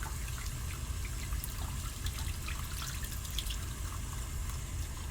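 A denture is rinsed under a running tap during a nursing oral-care routine, producing a steady, moderately quiet trickle of water with faint splashes throughout, with no talking.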